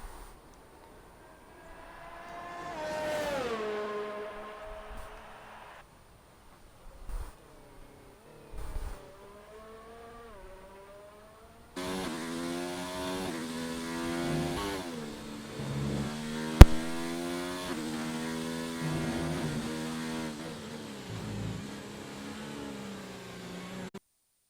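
F1 car engine on an outlap in F1 2019 at the Bahrain GP, heard as sharp rising and falling revs through gear changes, with brief pauses before a sustained high-pitched engine run.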